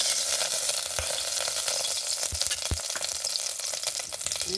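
Garlic frying in ghee for dal rice, a steady close sizzle with crackling spatters and a few sharp clicks from a utensil, no voices.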